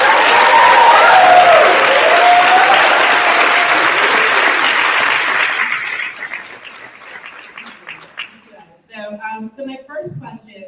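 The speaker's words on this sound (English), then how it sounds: "let's just start off with a round of applause" A forum audience breaks into loud, full applause that holds for several seconds, then fades out. A person begins speaking as the clapping dies away.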